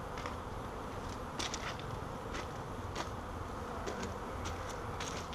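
A swarm of honeybees drones in a steady, dense buzz that holds without a break. Sharper buzzes flick past as single bees fly close, and no voices are heard.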